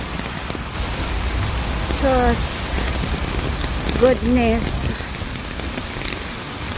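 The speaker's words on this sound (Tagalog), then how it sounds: "Papunta ng work, saka naman lumakas ang ulan." Heavy rain pours down steadily in a dense hiss close by, while a person makes brief exclamations over it.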